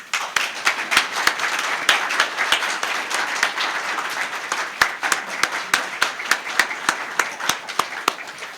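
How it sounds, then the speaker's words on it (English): Audience applause at a town State of the Town address, a sustained round of many hands clapping with sharp individual claps standing out, moderately loud and close, without talk. "Please join me in a much-deserved round of applause for Honey Path's grant writer"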